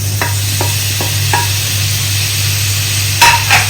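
Tomato goes into a pan of sizzling onions and green chillies for a sausage curry, with a continuous fry hiss under a low hum, several light spoon scrapes and taps, and a sharper clatter near the end.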